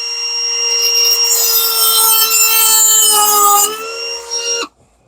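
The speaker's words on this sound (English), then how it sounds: "let's see how this one holds up through the next couple of cuts with the next Dremel" A Dremel rotary tool cuts through material in a loud, high-pitched whine that holds steady for several seconds, dips slightly in pitch, then stops abruptly and leaves near silence.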